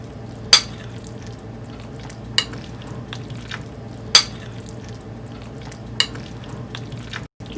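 Spices being mixed by hand into raw mutton for fried rice, a soft steady squishing rustle with a few sharp utensil clinks against the bowl at irregular intervals, close and fairly loud with no talk.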